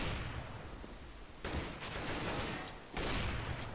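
Rapid gunfire on de_dust2 in a competitive CS:GO match, with dense bursts of shots cutting in sharply and overlapping in quick succession, loud and close over steady game ambience.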